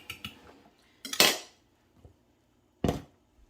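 A big mixing bowl is picked up and set down in a home kitchen, giving a few sharp clattering knocks and clinks separated by brief silences.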